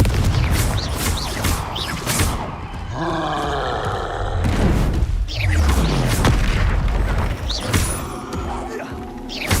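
Spell blasts and booming explosions in the Hogwarts Legacy video game, including the Confringo explosive spell, with several heavy roaring impacts and whooshing magical effects, loud and close.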